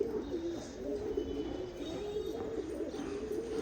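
Pigeons, including Teddy and Golden breeds, coo softly and repeatedly inside a netted loft at breeding season, a low steady murmur of overlapping calls, faint and with no talk.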